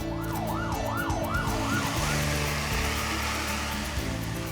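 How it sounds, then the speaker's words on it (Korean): A fire truck's wailing siren during a factory fire drill, rising and falling in a steady cycle at first, then fading under rumbling engine noise, loud and fairly near. "그 사이 소방차까지 출동한다."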